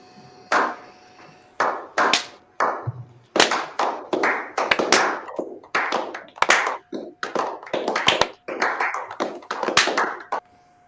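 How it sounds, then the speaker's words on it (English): A slow golf clap plays from a sound effect button as a series of crisp, evenly spaced hand claps that start sparse and then fill into a steady rhythm, loud and close. "I know, like, the slow golf clap thing"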